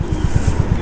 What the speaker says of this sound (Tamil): எக்ஸாஸ்ட் இருங்க, நான் உங்களுக்கு காட்டுறேன் எப்படி இருக்குன்ட்டு